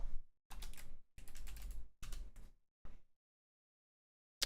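Bursts of typing on a computer keyboard, close and fairly crisp, with short pauses between runs of keystrokes and then a stop, no voices.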